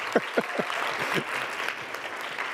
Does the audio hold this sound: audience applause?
yes